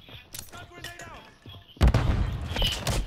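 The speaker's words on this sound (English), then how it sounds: "Whenever this flashbang goes off." A flashbang grenade goes off in a multiplayer shooter game as a sudden loud burst of noise that rings on briefly after people finish talking.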